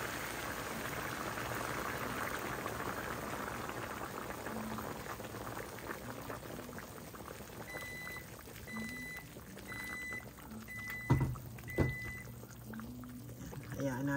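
Chicken tinola broth boils in a cooking pot, giving a steady, dense bubbling hiss at close range. A few short tonal beeps and a couple of sharp knocks come near the end.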